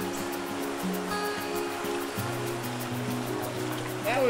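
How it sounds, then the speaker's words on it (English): Swift creek water rushing over rapids after a day of rain, a steady broadband roar and splash that stays close and constant throughout, with no voices. "That was some sweet rapids"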